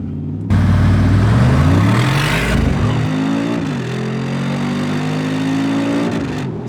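An Urban G700S AMG, a widened British-modified G63, launches hard from a standstill; the engine roars loudly and climbs through a gear change, then keeps pulling at a steady high drone.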